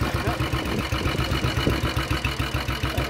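A 1957 BSA C12 250cc single-cylinder motorcycle runs nearby at a dealer's premises with a rapid, even thumping exhaust beat, while a voice talks faintly over it.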